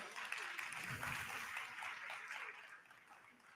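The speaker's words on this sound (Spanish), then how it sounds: "Un aplauso muy, muy fuerte." A crowd applauds at a family program's closing ceremony, a brief stretch of dense clapping that stays fairly faint and distant, tapering slightly toward the end.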